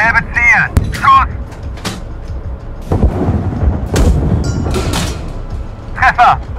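A tank cannon fires in the Gunner HEAT PC (GHPC) combat game, its deep booming blasts mixed with clanking and rumble, while German crew voices shout commands over the top.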